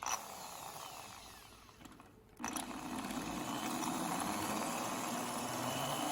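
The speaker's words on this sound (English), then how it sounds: "So probably the easiest thing is to just drill it out." A power drill with a 5/32 bit bores out a headlight screw on a Chrysler Intrepid, whirring steadily, pausing briefly and then running again at a constant close, buzzing pitch.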